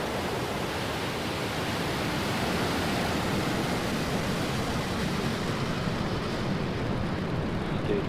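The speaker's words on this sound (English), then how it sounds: "Ignition. And liftoff of Falcon's first East Coast polar launch" Liftoff of a SpaceX Falcon 9 rocket on a polar launch, heard as a steady, broad, distant roar like rushing noise that holds evenly throughout with no voices.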